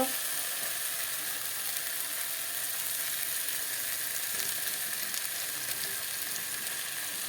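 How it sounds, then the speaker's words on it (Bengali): Vegetables sizzle and fry steadily in hot oil with spices in a pan, a dense continuous crackle with no voices. "মশলা থেকে তেল ছাড়তে শুরু করে দিয়েছে এখন সবজিগুলোকে ঢেলে দেব"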